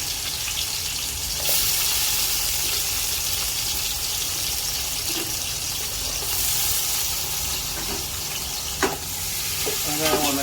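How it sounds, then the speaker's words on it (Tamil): Onions sauté in oil and ghee in a pan with a steady, close sizzle and frying hiss, broken by a few soft clinks of stirring. "வெங்காயம் லைட்டாக ஒரு வதக்கம் தம்பி."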